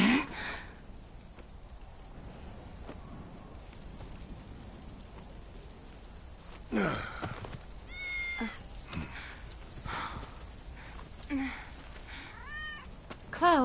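A cat meows in the video game Final Fantasy VII Remake: several short, close meows come in the second half over a steady, rain-like ambient wash, with brief voices nearby.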